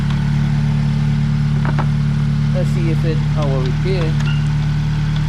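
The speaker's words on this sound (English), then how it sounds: "start the vehicle" A 1995 Mitsubishi, under repair for a battery that keeps dying and an alternator not charging, runs at a steady loud idle throughout, with people talking over the engine drone.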